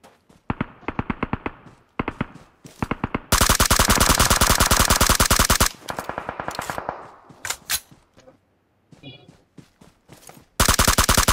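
Rapid automatic gunfire in a mobile battle-royale shooter game, loud close bursts of varying length with short pauses, one long sustained stream in the middle and another burst at the end, no speech.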